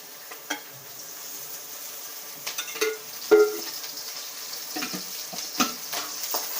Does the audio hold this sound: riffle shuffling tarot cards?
no